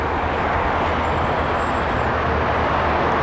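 Road traffic streams past near a home, a dense continuous roar of passing vehicles that stays loud and steady throughout.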